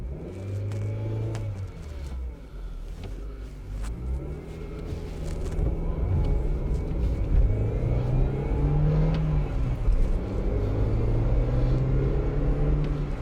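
A 1999 Ford Fiesta petrol engine, one that stalls when cold, runs steadily and revs up and down in a garage without cutting out, with a continuous close mechanical drone and rising and falling tones.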